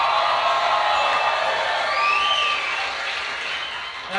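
A comedy-show audience at a Gabriel Iglesias performance cheers and whoops loudly over sustained applause, a dense roar of many voices, with shrill shouts rising out of it.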